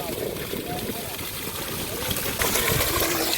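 Water gushes steadily from a borewell 500 feet deep through a 2-inch delivery pipe, driven by a 7.5 HP solar motor pump, making a loud continuous rushing wash that swells slightly near the end while people talk over it.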